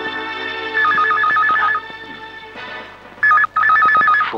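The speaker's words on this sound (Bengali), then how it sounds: "ফোন।" An old-style telephone bell rings in warbling trilled bursts, loud and close, twice with a short gap between, over a faint steady background with no talk.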